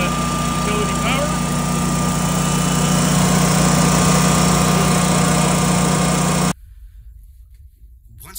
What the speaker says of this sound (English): Generator fired up all on its own because it lost utility power.